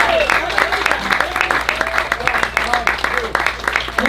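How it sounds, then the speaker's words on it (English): Audience at a fado show giving a round of applause for a special guest, loud crisp clapping with a few voices and cheers mixed in throughout. "please give a warm Point Loma round of applause for our special guest, Mr. C. Swatch."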